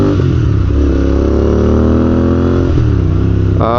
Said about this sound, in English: maybe you shouldn't hear my exhaust system